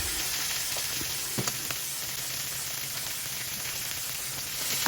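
Cut pieces of galunggong fish frying in a pan give a steady, even sizzle with faint crackles and a few soft pops throughout, close up and with no voices.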